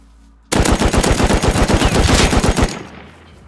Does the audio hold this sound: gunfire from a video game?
yes